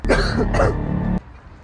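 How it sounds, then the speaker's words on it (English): A single harsh cough close up, rough and throaty in two bursts, followed by quiet. "Ever since coming to Florida, I've had a cough"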